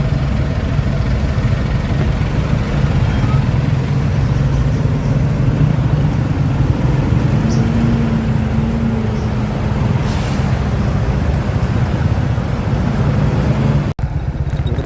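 A car engine idles steadily in road traffic near San Pablo, a loud continuous low rumble with a faint hiss of other vehicles, no voices.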